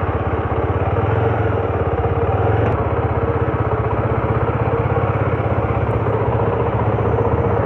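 A Daytona Zontes R250 motorcycle engine idling steadily nearby, a loud, even, rapid mechanical pulse held for several seconds without talk.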